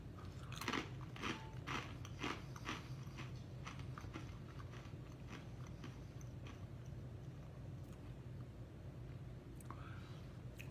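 Cheddar cheese flavored chips crunched close up, a run of sharp, loud bites and chewing crackles in the first few seconds that soften into quieter munching with steady low background rumble.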